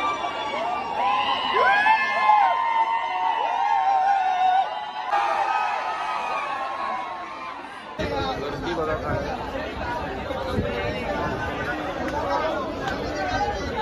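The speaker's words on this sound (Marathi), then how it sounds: "मरीन ड्राईव्ह स्टेशनच्या बाहेर खूप गर्दी झाली आहे." A huge crowd gathers outside Marine Drive station in Mumbai for the 2024 World Cup cricket team road show, a constant babble of chatter with shouts and whoops, nearby voices talking, and a sudden shift in the noisy background partway through.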